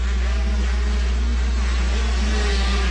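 A 125cc motocross bike at a youth amateur national race buzzes past with a steady, loud, sustained engine drone throughout, no clear pass-by swell.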